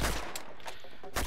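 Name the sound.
gunfire from the video game Uncharted: Among Thieves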